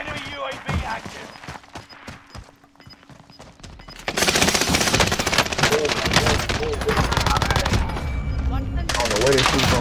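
Sustained automatic gunfire in the Call of Duty: Warzone video game erupts partway through and keeps rattling loudly to the end, with players talking excitedly over it.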